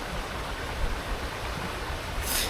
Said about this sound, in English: It's cool to see the way the water flows